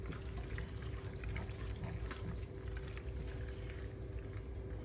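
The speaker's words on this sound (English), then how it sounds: "I am gonna thin it out with a little bit of pasta water" Reserved pasta water is poured into a sausage and roasted bell pepper pasta sauce, a steady liquid splashing and trickling that runs throughout with a low kitchen hum.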